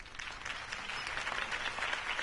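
Steady crowd applause in a Batman video game, a dense continuous wash of clapping with cheering that holds at an even level throughout.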